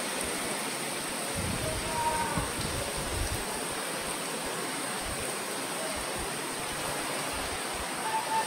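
Heavy rain falls in a steady, broadband hiss that stays constant throughout, with faint low thuds beneath it.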